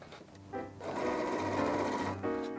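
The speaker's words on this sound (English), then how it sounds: "I'm going to stitch about 1/8 to 1/4 of an inch down here and top stitch right across, going through all the layers" A sewing machine runs a top stitch across a zipper pouch through all layers, with a short burst, a pause, then a longer steady whirring run close by.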